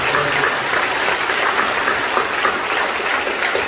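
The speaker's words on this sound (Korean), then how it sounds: "박수로 격려해 주시죠." A church congregation claps during an Easter Sunday service, dense continuous applause rising evenly from the whole hall and holding steady throughout.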